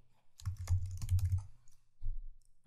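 Quick bursts of computer keyboard typing while code is entered, a dense run of close clicking keystrokes, a short pause, then a few more keys.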